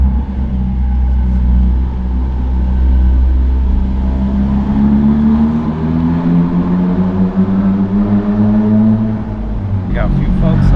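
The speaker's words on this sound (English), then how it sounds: "I am barely tapping the gas, and it is, I mean, you could hear that" At a cold-start car meet, a car engine idles with a deep, loud drone, then revs up in a slow, gradual rise in pitch before settling back. A person talks over the engine throughout.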